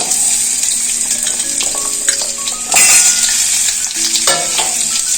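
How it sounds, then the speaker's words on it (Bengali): Chopped ambarella is tipped into hot mustard oil with tempered spices in a kadai, setting off a steady loud sizzle with stirring scrapes and a sharp surge of frying partway through. "এর মধ্যে কেটে রাখা আমড়াটা দিয়ে দেবো"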